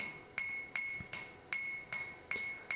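A hammer strikes a wrought-iron viking hammer's peen on the anvil bick, seven evenly spaced ringing metallic blows with a bright sustained anvil tone between hits, close and alone.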